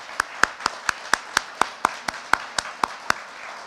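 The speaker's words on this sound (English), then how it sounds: "let's give one final round of applause to both Michael and Darren." Slow, evenly spaced single claps, about fourteen sharp hand strikes in steady rhythm, fairly close and isolated, at the end of an evening talk event with a virtual audience.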